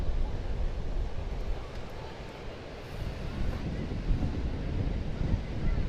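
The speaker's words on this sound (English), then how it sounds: "primarily wind-driven waves today" Wind-driven Atlantic Ocean surf on an open Long Island beach at Smith Point County Park: a steady broadband wash of breaking waves with heavy wind buffeting the microphone throughout, no voices.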